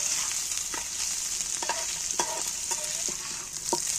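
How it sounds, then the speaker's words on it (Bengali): Boiled eggs frying in oil with curry leaves, a bright steady sizzle with scattered clicks and scrapes of a spatula stirring in the pan, close and alone. "ডিমটাকে একটু এই তেলের মধ্যে ভেজে নিচ্ছি"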